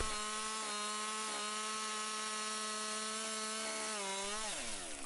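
A chainsaw runs at a steady high-pitched whine, cutting through a tree limb, then its pitch dips and rises as the cut finishes.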